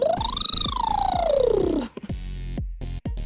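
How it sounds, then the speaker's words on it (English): A singer's vocal warm-up: a sliding voiced glide that rises and then sweeps downward, followed by short, choppy vocal sounds, heard close and alone. "My vocal warm-up sounds something like this."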